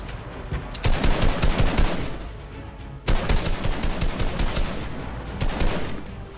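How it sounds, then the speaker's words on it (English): Fortnite Season 1 weapon fire from a grenade launcher pounds out in loud, rapid, dense bursts of repeated shots, broken by a brief gap midway, with no talking. "Hope you enjoy a nice little grenade launchers."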